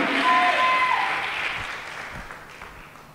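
A church congregation applauds and cheers for Jesus, a broad wash of clapping and voices that starts loud and gradually fades over a few seconds, with a short tonal sound near the start.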